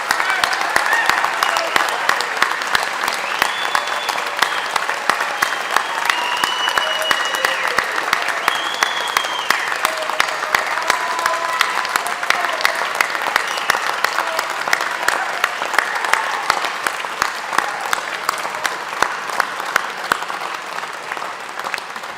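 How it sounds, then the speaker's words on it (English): Staff applauding graduates at a Unitec graduation ceremony, sustained loud applause from a large hall crowd lasting over twenty seconds, dense steady clapping with faint voices and cheers mixed in. "could I please ask my colleagues, the staff of Unitec, to stand and applaud our graduates of"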